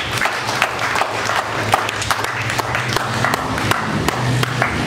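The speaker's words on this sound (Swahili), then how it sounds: "Hebu mpe Yesu makofi." A church congregation applauds steadily, with many hands giving a dense, sustained patter and sharper individual claps standing out throughout, and no clear speech.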